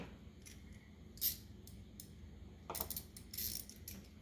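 A 1/4 inch drive ratchet runs a nut down onto a freshly anti-seized stud during a tune-up, giving faint, quiet bursts of clicking separated by short pauses.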